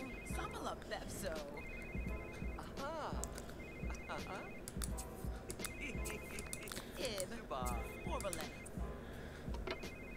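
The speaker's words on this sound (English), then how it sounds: "whose phone's ringing?" A phone rings inside The Sims 3 life-simulation game, its bright electronic ring repeating in regular short bursts over busy in-game ambience and chatter.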